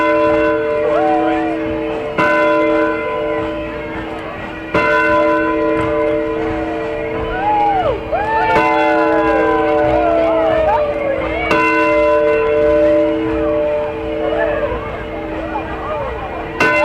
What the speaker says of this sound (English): Let the church bells ring.